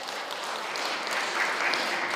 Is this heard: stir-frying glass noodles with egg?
no